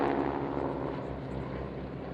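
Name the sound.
Breitling L-39 jet and wing walker aircraft flying at Fairford air show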